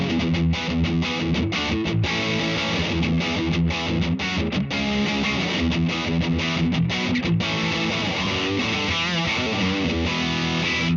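A heavily saturated, distorted electric guitar plays continuously and loudly, thick and fuzzy with sustained chords and riffing throughout.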